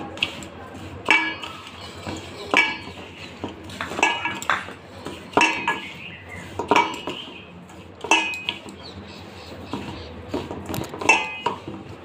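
A spoon scrapes and clinks against a metal bowl while semolina and flour are stirred together for homemade fuchka dough, giving a steady rhythm of sharp close strokes about once a second.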